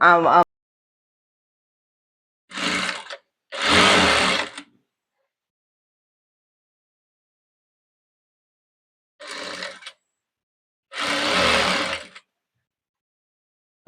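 A sewing machine stitching a nighty, running in four short bursts of about a second each, separated by silences, close by and fairly loud with no talk.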